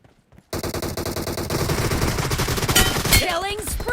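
M416 and Scar-L rifles fire in a team deathmatch video game. After a brief quiet start, loud, close, rapid automatic bursts run continuously, and electronic game effects sweep in near the end.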